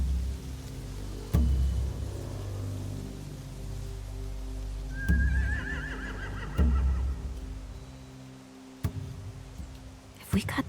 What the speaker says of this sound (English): Scare the horses, too.